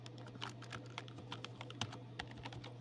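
Close, quick clicks of a computer keyboard as someone types, uneven bursts of keystrokes over a low steady hum.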